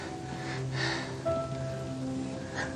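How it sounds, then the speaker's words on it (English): Steady rain falling in a film scene, a constant hiss of drops with faint tonal sounds drifting through, no talking. "Rain all around us."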